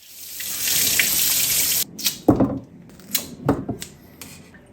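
Ginger is rinsed under a running kitchen tap with a steady hiss of water for about two seconds. The flow then cuts off, leaving a few close wet thumps and knocks as the washed ginger is handled.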